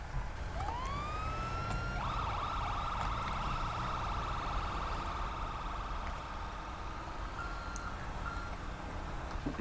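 Wailing ambulance siren from an EMS van in a video game, rising in a swoop then holding a loud, steady electronic wail over continuous engine rumble and background game sounds.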